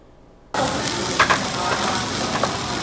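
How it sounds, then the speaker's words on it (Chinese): Minced pork hits a hot frying pan after a brief near-silence and breaks into a loud, steady sizzle that holds to the end, with a few faint clicks from the pan. "猪肉末在煎锅里滋滋作响"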